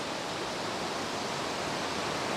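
Inversnaid waterfall on the West Highland Way in Scotland, heard as a steady broad rushing roar of falling water, even and continuous with no voices.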